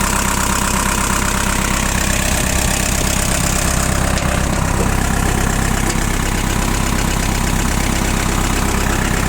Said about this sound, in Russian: работает двигатель действительно достаточно хорошо